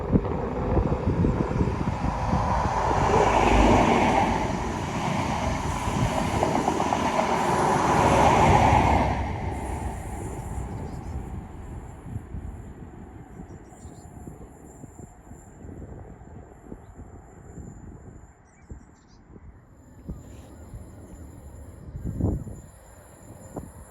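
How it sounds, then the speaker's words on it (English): A ScotRail diesel train with Class 43 power cars at each end passes near a bridge, its loud engine roar and rolling rumble peaking early, then fading away into distant quiet with a brief later thump. "Approaching us now is the 1 Bravo 82, a ScotRail service from Aberdeen to Edinburgh Waverley."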